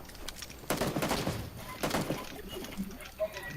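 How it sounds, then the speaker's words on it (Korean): Gunfire in the PUBG Battlegrounds video game comes in two sharp bursts with quieter shots after, mixed with players talking. "저거 봐, 쏜다, 저거 쏜다."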